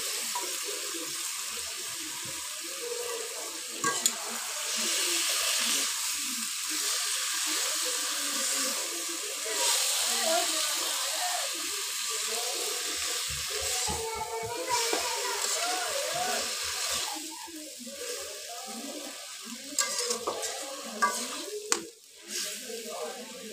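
Taro stolons and boiled jackfruit seeds fry in a pan for a shrimp and sidol dried-fish dish, giving a steady, fairly loud sizzling hiss. Occasional utensil clatter and faint background voices run through it.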